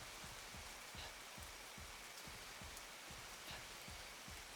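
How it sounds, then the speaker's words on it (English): Steady, soft rain from the Monster Hunter 2 video game, a continuous hiss of falling water with faint, regular low patters of drops, heard alone without voices. "we're in here in the rain"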